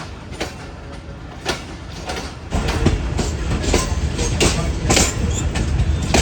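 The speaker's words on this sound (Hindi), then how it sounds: "8:32 पर कोट लखपत रेलवे स्टेशन पर अप्रोच बना रही है ट्रेन हमारी" A passenger train pulls into Kot Lakhpat railway station on a loop line, wheels clacking rhythmically over rail joints and growing louder and heavier midway, with occasional sharp metallic clicks and a faint voice in the background.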